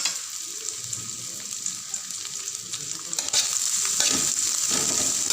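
Chopped onion sautéing in oil on a tawa, a steady close sizzle and fry hiss with occasional stirring scrapes, growing a little louder and busier toward the end.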